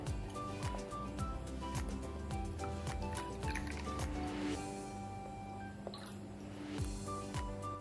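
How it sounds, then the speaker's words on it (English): Thick ice cream mix is poured into ice cream cone trays, dripping and plopping in an irregular stream of wet drops and squishy splats, fairly close. "Now we'll be pouring this entire mix into it."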